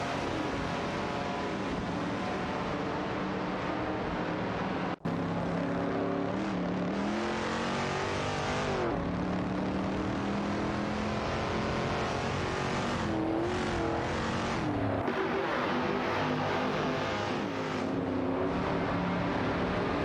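Engines of race cars, including a Shelby GT350, in a racing video game, a continuous loud droning roar with shifting revs and overlapping cars and no talking.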